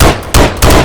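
Gunfire from a gun in the Minecraft video game, three loud, close shots in quick succession, each a harsh broadband blast with no talk over them.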